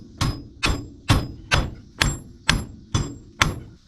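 A hammer strikes a loose dust shield on a GMC Sonoma truck eight times in a steady rhythm, each blow a sharp, close metallic smack with a short ring, spaced about half a second apart.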